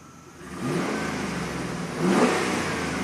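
A 2009 Chevy 3500HD diesel truck with 421k miles, after a crank-no-start compression fault, runs close by, its engine swelling into a steady rev before rising briefly again near the end.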